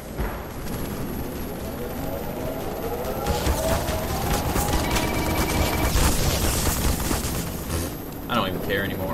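Sustained gunfire aimed at an Apache helicopter in Black Mesa, a steady rattle of shots over a continuous whirring engine drone, with someone talking over it.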